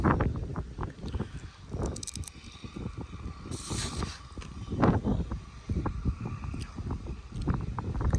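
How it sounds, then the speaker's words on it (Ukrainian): Strong wind gusts buffet the microphone in a continuous low rumble, rising and falling over a steady background drone, during field cultivation with an MTZ-892 tractor and KPS-4.2 cultivator, with no one speaking. "Вітер страшний."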